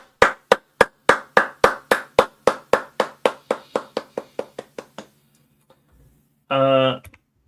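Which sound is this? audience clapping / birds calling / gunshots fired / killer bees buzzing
audience clapping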